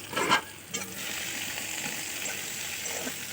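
Onion, garlic and green chillies fry in oil in a pan, giving a brief stirring clatter and then a steady, close hiss of sizzling that holds evenly to the end.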